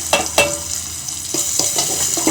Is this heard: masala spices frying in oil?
yes